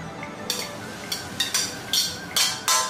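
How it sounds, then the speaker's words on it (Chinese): Stir-fried frog stomach with chilies slid from a wok onto a round plate, a series of short scraping pours and clinks repeating roughly every half second, bright and close. "给它倒入圆盘中。"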